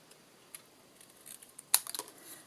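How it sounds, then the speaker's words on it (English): Paper snipped diagonally with scissors while stamping cards, a few quiet crisp cuts clustered together, faint and close with no talk. "And then I'm just going to cut diagonally"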